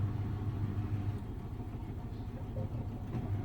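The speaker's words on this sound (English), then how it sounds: "you can definitely hear how very quiet it is for a digital to inverter motor" A Samsung Ecobubble silver washing machine's digital inverter motor spins its drum during a daily wash, giving a steady, quiet low hum and rumble throughout with no break or change in pitch.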